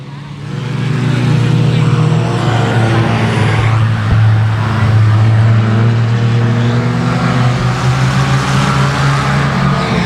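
Dirt track race cars at Boothill Speedway, a dense, loud, continuous engine roar from several cars running together, steady throughout with slight rises and falls as they circle.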